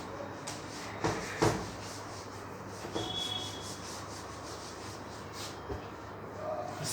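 Writing is erased from a board with repeated rubbing strokes, a soft scratchy swishing punctuated by a few light knocks and taps, heard close and on its own.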